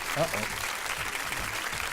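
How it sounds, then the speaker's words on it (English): Studio audience on a radio show greets an arriving guest with applause, a brief steady clatter of clapping with voices talking over it. "So let's bring a round of applause."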